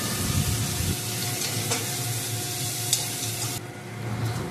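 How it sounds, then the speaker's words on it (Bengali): Turmeric, cumin, coriander and garam masala powders stir-fried in a pan for a no-onion, no-garlic paneer bhurji make a loud, steady sizzle with light stirring, no voices. "দিয়ে ভালো করে মশলাটা কষাতে থাকলাম"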